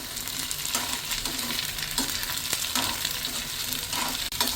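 Potato and drumstick pieces sautéing in a pan for a drumstick mutton gravy, a steady close sizzle and frying crackle with soft stirring scrapes, no talk.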